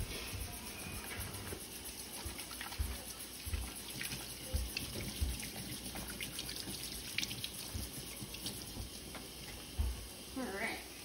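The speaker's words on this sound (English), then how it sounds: "I'll wash my hands because I just touched raw meat." Running tap water splashes steadily into a kitchen sink as hands are rinsed after handling raw meat, a continuous soft hiss with occasional low thumps, fairly quiet throughout.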